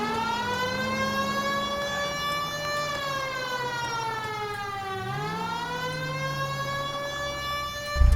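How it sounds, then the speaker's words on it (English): Police car siren in the video game L.A. Noire wails steadily and loudly for the whole stretch, its rising and falling pitch sweeping smoothly with no talk over it. "Hit the siren."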